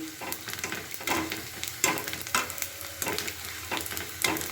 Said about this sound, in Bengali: যে ছাটগুলো ছিল কুচো পাপড়গুলো ছিল ওগুলোকে এবার ভেজে নিচ্ছি খুব ভালো করে